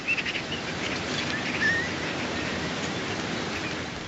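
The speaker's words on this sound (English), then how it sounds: "they're fake sounds of birds, which it produced by listening to hours and hours of field recordings" AI-generated bird calls learned from field recordings of the Essex marshes: scattered thin chirps and whistles over a dense, steady hiss of insect-like noise, with no speech.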